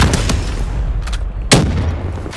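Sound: gunfire in video game Black Ops 3

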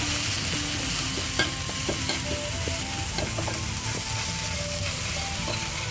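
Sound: stir-frying seasoning in oil for pork bone soup

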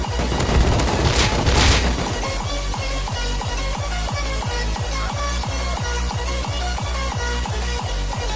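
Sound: gunfire in the video game Rust

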